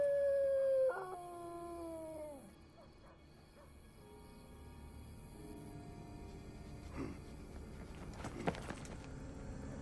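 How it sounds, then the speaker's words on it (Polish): Dogs and wolves howl in Assassin's Creed Brotherhood, with a long, loud, sliding howl at the start that fades into quieter whimpers and distant animal calls over a low game ambience. "Psy i wilki."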